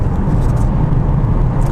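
Turbocharged engine of a 2016 Opel Mokka X pulling hard in third gear from about 2,000 rpm, a loud, steady low rumble and whir heard from inside the car.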